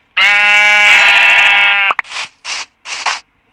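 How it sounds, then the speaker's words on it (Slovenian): A sheep in the Minecraft video game gives one long, loud, close bleat, followed by three short bursts of game sound effects, with no talking. "zdaj bom zaklal ovco"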